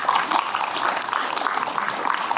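Applause at a citizen participation team launch ceremony of the International Climate and Environment Center, as appointment certificates are handed out. A steady, moderate crowd clapping continues evenly with no pauses.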